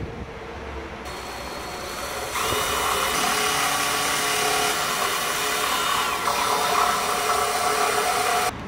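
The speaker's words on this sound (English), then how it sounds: "I'm gonna start with a smaller drill bit just to get a tiny hole started" A power drill with a small bit bores a starter hole near the edge of a Honda Civic Shuttle bumper, whining steadily and fairly loud for several seconds after a short quieter start, with no talking.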